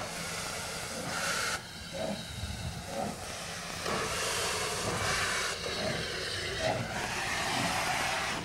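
Two old Hungarian steam locomotives used for freight let out loud, sustained hissing steam close by, with a few surges and dips in a steady roar.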